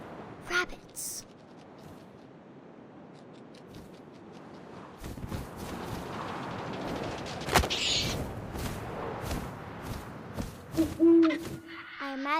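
Several owl hoots sound in the game What Remains of Edith Finch, set against soft wind and rustling, with a narrator's voice speaking and a few sharp thuds.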